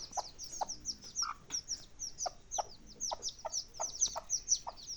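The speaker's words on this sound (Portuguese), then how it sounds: "É, 4 pintinhos." Bantam hen with four chicks, the hen giving repeated low clucks while the chicks keep up a constant stream of high, thin peeping chirps, close by and moderately quiet.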